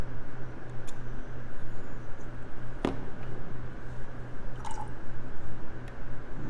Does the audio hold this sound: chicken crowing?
no